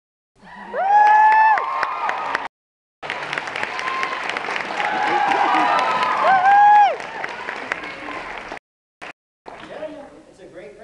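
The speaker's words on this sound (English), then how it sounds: "It's a great crowd and they cheer for the" At a library event, a crowd cheers and applauds loudly in bursts with whoops and shouts, broken by brief silent gaps.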